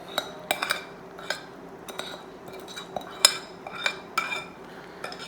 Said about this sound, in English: now we'll combine the liquid ingredients. Just mix that all through.